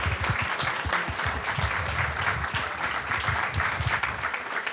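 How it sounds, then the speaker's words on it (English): A town hall audience gives a steady round of applause, dense clapping close and loud throughout with a fuller low thump mixed in and no voices over it. "So a round of applause for Kudos."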